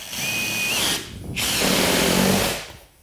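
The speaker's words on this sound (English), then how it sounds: "we are screwing right through the floor" Power drill driving screws through plywood subfloor into a wooden floor joist: two loud whining bursts of drilling with a short pause between them, close by, with no talking.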